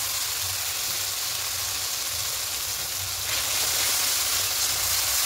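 Poppy seed and coconut paste sizzling in a pan with onions for an egg posto dish, making a dense, even hiss that grows louder partway through, with no talk.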